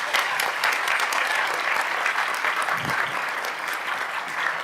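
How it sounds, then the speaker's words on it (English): A room full of people at a Board of Education meeting applauds steadily and loudly, dense clapping that holds its level for the whole stretch without a break. "Please give yourselves another round of applause."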